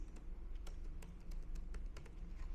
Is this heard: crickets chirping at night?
no